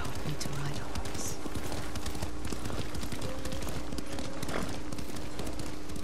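A horse ridden in the video game Ghost of Tsushima gives steady, rhythmic hoof clip-clops at a moderate distance, beneath spoken dialogue and a low ambient hum.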